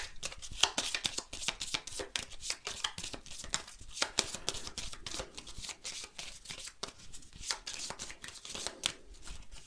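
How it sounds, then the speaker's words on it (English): Game cards from the board game Imperium are shuffled by hand in a fast run of crisp riffling and slapping bursts, close and steady for nearly ten seconds, with no talking. "And then shuffle and redraw."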